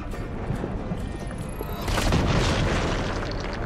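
A grenade blast in the video game Journey to the Savage Planet lands as a heavy, rumbling boom that swells midway and lingers over steady game ambience, with no talk over it.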